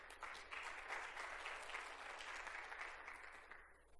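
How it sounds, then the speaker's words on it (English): An audience at a conference claps steadily for a speaker walking on stage, a dense even round of applause that fades out near the end. "Can I get a huge round of applause, please, for Mr. Lee Sandel to the stage?"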